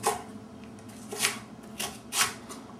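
A knife slicing Swiss chard stems lengthwise into thin strips on a cutting board, giving four short, crisp cutting strokes spaced roughly half a second apart at close range, with no talking.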